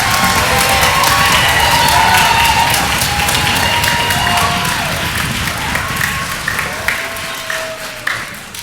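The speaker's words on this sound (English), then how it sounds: "let's give them all a round of applause." A school band concert crowd applauds and cheers loudly, dense clapping with whoops that slowly thins and fades toward the end.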